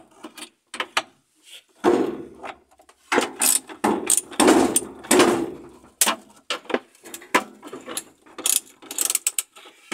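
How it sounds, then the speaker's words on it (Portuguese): A screw is worked loose from underneath a machine during an actuator replacement, giving rapid ratcheting clicks in bursts with brief pauses, close and fairly loud. "Agora vamos tirar outro parafuso embaixo."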